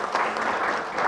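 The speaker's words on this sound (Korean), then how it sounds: "이재정 의원님께 다시 한번 큰 박수 부탁드리겠습니다." Short burst of steady audience applause at a National Assembly policy forum on overtime rules for public servants, filling the room evenly with dense clapping and no voice over it.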